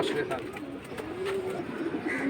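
High-flying pigeons of several varieties at a pigeon market cooing in low, wavering calls that repeat through the clip, over a busy background murmur.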